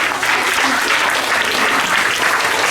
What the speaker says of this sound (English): Big round of applause to ma'am also.